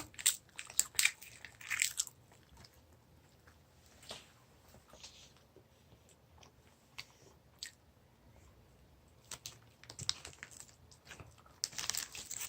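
Crunchy, crackly bites of apple-flavored edible colored paper, with clusters of crisp snaps and crinkling chews close up, pausing between mouthfuls and coming back louder near the end.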